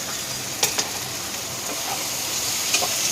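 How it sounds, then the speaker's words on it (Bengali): Onions sizzle steadily while frying in a pan for a fish recipe, a continuous close hiss with a few light clicks of stirring. "প্রথমে দিলাম পেঁয়াজটা"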